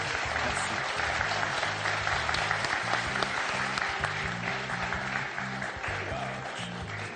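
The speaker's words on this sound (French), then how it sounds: "Applaudissements pour Andry quand même." Studio audience applauding a contestant on a French TV quiz show, a steady dense wash of clapping lasting throughout with light music underneath.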